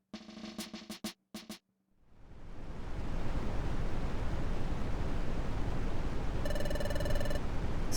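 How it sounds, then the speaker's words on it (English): Game music stops after two seconds in Pokémon Mystery Dungeon: Explorers of Sky. A waterfall's roar then swells into a loud, steady broadband rush with no voices, and a brief tonal chime sounds near the end. "That water's coming down hard."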